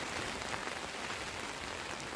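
Steady rain falling on a campsite, a soft continuous hiss of drops pattering on surfaces, even and fairly quiet throughout, with no voices.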